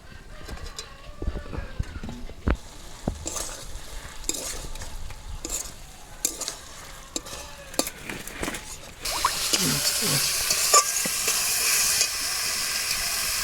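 An egg fries in a kadai, hot oil crackling with sharp pops and clatters of a stirring spoon, then the sizzle swells into a loud, steady hiss for the last few seconds.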